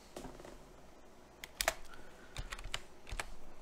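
Terminal command typed on a Linux computer keyboard: a quiet, close run of irregular key clicks and taps, growing busier toward the end, with no talking.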